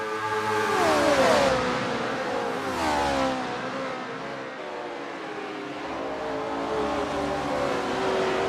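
Several V8 race cars from a 1970 racing video game roar around Kyalami, engines revving loud and close with rising and falling pitch as they shift and jostle, a steady din with no talk.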